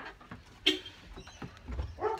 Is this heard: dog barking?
yes